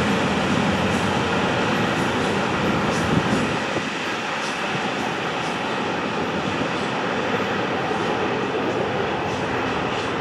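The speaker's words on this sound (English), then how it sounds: "A real stack train" A long, steady rumble of a heavy stack freight train rolling past close by on the Florida East Coast line, broad and continuous, easing slightly partway through.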